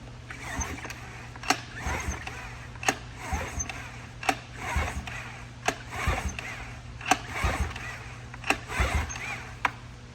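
A Tohatsu outboard motor being turned over by its pull starter with the safety lanyard removed so it cannot fire; repeated sharp pull-and-crank bursts, about a dozen, sounding at a steady rhythm over a low background hum.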